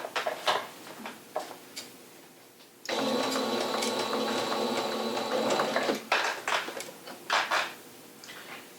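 A sewing machine stitches the side border of a large, heavily pinned quilt: a steady close mechanical whirring run of about three seconds, framed by rustling and handling of fabric before and after, with no talking.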